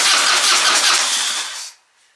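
A Harley Dyna motorcycle engine runs loud and steady on starting fluid, a dense close roar lasting under two seconds before cutting out abruptly into near silence.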